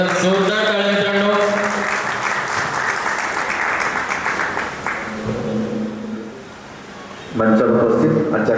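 An audience at a high school reunion gathering claps loudly in a dense, sustained burst, thins out briefly, then swells again near the end, with voices mixed in among the clapping.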